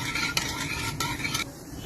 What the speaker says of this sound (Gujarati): હલાવતા રહીએ છીએ જેથી કરીને છાશ ફાટી ન જાય.